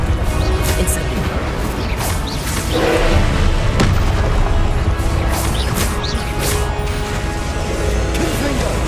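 An Incendio fire spell cast during combat in the video game Hogwarts Legacy on PC, heard as loud, continuous booming blasts and crashing impacts over dense battle noise.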